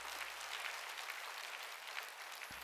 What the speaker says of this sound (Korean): 깨달은 사람만 박수 쳐.